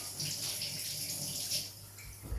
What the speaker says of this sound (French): Je vais aller me rincer les mains.